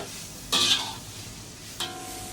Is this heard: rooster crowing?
no